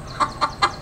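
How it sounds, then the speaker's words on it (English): A rooster on a farm gives three quick, loud clucks, evenly spaced and close by, with no other sounds around them. "The rooster."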